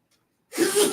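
A single sharp, close sneeze bursts out after a near-silent pause and trails off with a breathy, noisy tail.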